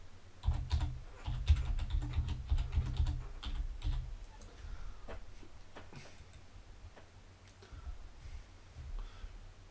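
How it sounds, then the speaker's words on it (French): Quick keystrokes patter on a computer keyboard as a name is typed into a search box, close and crisp in a busy burst that thins to scattered taps. "Et ici, dans la zone de recherche, je vais écrire Eric Tabarly"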